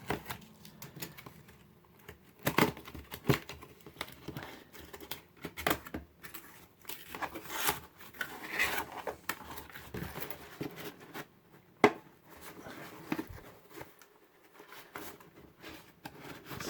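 A blade slices into the cardboard box of an E88s drone, producing scratchy, irregular tearing and scraping bursts with crackling cardboard and handling rustle, close and continuous, no talking.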